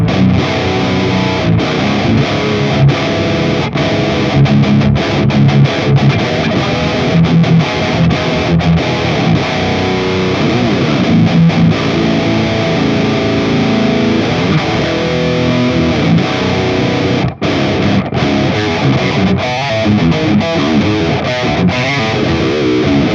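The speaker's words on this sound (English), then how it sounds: "that's just like my djenty sound" Heavily distorted djent-style electric guitar through an Axe-Fx III running a Mesa Triple Crown amp preset, with loud, dense palm-muted chugs and rhythmic stops, played continuously with no voices.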